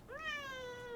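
A single cat gives one clear, drawn-out meow, rising briefly then sliding slowly down in pitch, close and moderately loud.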